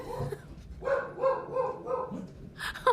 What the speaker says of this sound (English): I had to take a little break there so my dogs could bark at absolutely nothing. They're still barking.